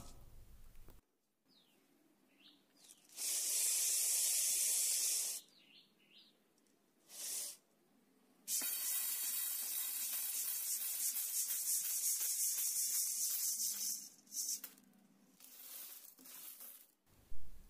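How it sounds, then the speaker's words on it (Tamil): Green gram (moong dal) dry-roasts in a pan, the loose seeds rasping and rattling in bursts as a spoon stirs them, with steady scraping stretches broken by short pauses. "இந்த பாசிப்பயரை ஒரு மூணு நிமிஷத்துக்கு நல்லா வாசம் வர்ற அளவுக்கு வறுத்துட்டு"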